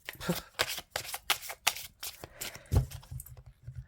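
Fortune-telling cards are laid down and covered one after another on a table, making a run of quick, close papery taps and slaps with brief gaps between them, with no talk.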